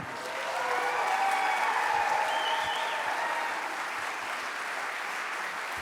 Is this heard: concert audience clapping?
yes